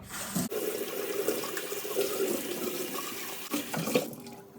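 Tap water runs steadily into a yellowed, limescale-stained kettle as it is rinsed under the faucet, a continuous splashing wash with a brief break near the start.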